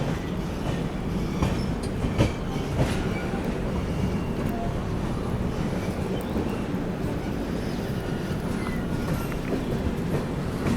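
A Nagpur Metro train passes overhead while the listener waits aboard a stopped AP Express, its steady rolling rail rumble and clatter continuous and fairly loud throughout, with faint occasional squeals.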